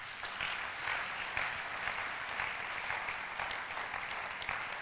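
Steady, even applause from a church congregation, many hands clapping at moderate distance in a continuous crackling wash with no voices standing out.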